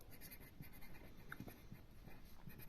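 Writing on a board during a chemistry lesson, a soft continuous scratching and tapping of strokes, faint and close, with no voice over it.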